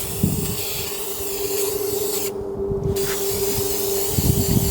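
Spray adhesive hissing from a can onto sofa cushion pieces inside an Ember 201FBQ travel trailer, a steady close spray held for several seconds with a short break in the middle.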